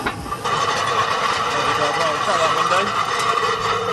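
Loud, continuous metallic rattling and clatter of field rollers dragged behind a tractor through barley, close by and unbroken after a brief quieter start.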